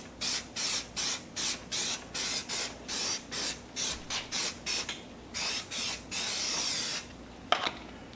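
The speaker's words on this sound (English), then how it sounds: "I'm going to spray it down with some anti-spatter" Anti-spatter spray on an old drill press vise in a welding and blacksmith shop, a string of about fifteen short evenly spaced hissing bursts, then one longer continuous spray and a small clunk, close and alone.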